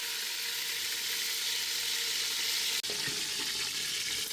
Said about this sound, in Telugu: నూనె గరం అయినాక అందులో వేసేయాలి.